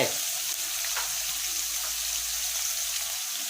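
Sliced onion poured into a hot pan with pork for a Thai sweet-and-sour stir-fry, giving a loud, continuous sizzle from the first moment that holds steady throughout, with no voices.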